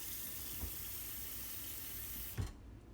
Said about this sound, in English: then you run the water again